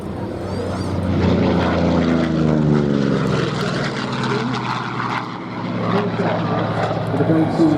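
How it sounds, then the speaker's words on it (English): A Vought F4U Corsair warbird flying at an air show, a propeller engine drone swelling and shifting in pitch as it passes, under steady commentary on a public address. "the Corsair."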